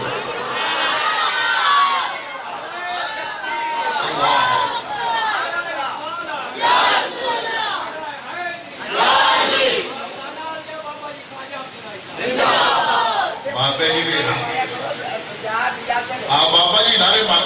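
A mosque congregation during Friday Ramadan gathering shouts religious slogans in loud, repeated bursts of many voices, alternating with a leader's chanted calls between the surges.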